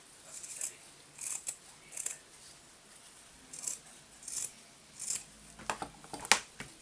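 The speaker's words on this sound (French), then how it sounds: "Moi je pense que je vais le couper en fanion." Scissors snip through fabric, trimming the end into a pennant shape for a fabric flower paper clip: a series of short, crisp, close cuts spaced out in bursts with quiet pauses between them.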